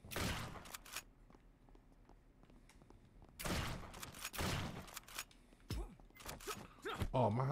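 Bursts of gunfire in the Acts of Blood action game demo, loud clustered shots near the start, middle and end with quieter footsteps and impacts between, and no speech.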